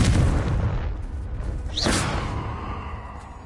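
A Confringo spell blast in a Harry Potter video game bursts out as a booming, whooshing explosion, with a sharp swell near the middle that trails off into a rumbling tail.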